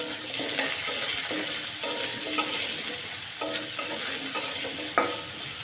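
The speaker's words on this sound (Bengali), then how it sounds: "আমি এই তেলে দিয়ে দেব আলু আলুগুলো ভাজার জন্য" Potatoes frying in hot oil with salt and turmeric, a steady bright sizzle throughout with scattered stirring clinks and scrapes of a utensil against the pan.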